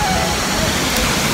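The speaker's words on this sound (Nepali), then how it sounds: "झरना चाहिँ यता छ" A village waterfall roars loud and close, a dense, continuous rush of falling water with no pauses.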